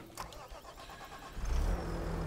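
Tractor engine in Farming Simulator 22 running steadily, with a low rumble that swells louder about halfway through as the engine revs up, alone without talk.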